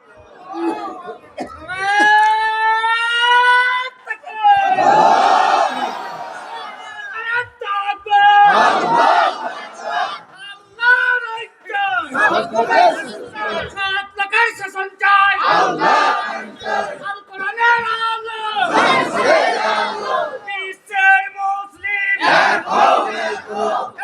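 A large crowd at an Islamic religious gathering shouts the takbir chant in loud, repeated collective bursts. The burst-and-pause rhythm recurs several times, with a lone voice rising between the crowd's responses.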